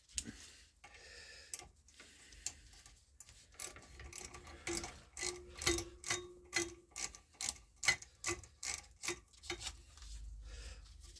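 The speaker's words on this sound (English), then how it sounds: "remove this bolt here that holds the bracket for the lower tube" A ratchet with an 8mm socket clicks rhythmically as it backs out a bracket bolt on a Classic Mini SPI inlet manifold: quiet, close, regular ratcheting ticks in a steady series of strokes with brief pauses.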